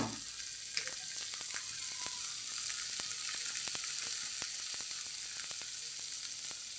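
Spice paste fries over a lowered gas flame, a soft, even sizzle crackling with rapid tiny pops and occasional spoon clicks, close but fairly quiet, with no speech.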